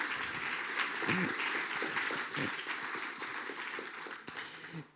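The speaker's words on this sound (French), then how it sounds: "Vous pouvez applaudir les mots de Jacqueline Côté" Audience applause at a conference on post-Brexit Europe and Switzerland, a sustained wash of clapping from a room of people with a few voices faintly beneath it.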